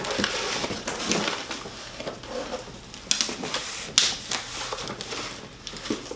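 Unboxing of a Yeswelder Cut 65 DS plasma cutter: close, quiet crinkling and crushing of packaging with scattered sharp snaps and knocks, irregular handling noises throughout.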